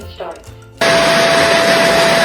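A MONSGA robot vacuum's base switches on abruptly after a brief lead-in, giving a loud, steady, whooshing suction roar with a thin whine as it self-empties dust from the robot, continuing without pause.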